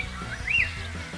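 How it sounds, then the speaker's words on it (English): Birds chirp faintly amid a soft, busy outdoor background, with one brief rising-falling call standing out in the middle. "Birds chirping."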